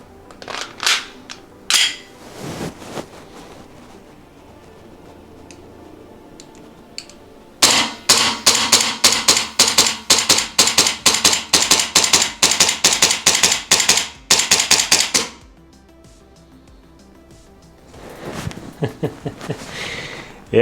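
A VFC SIG M17 gas blowback airsoft pistol fires BBs in cold winter conditions: a few scattered sharp cracks, then a long rapid string of about twenty snappy shots with slide clacks, followed by a final cluster of shots, all close and crisp.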